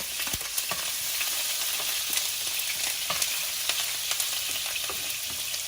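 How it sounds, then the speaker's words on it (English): Chopped onion sizzling in a hot frying pan, a constant bright hiss close to the mic with occasional small pops and stirring clicks. "Now I'm gonna fry up my onion and pepper now."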